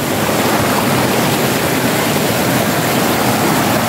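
Flowing water of a creek rushes loud and close, a steady dense wash with no pauses and no voices.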